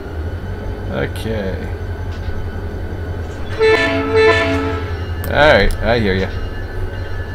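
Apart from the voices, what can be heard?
AI train with funny horn in Run8 train simulator video game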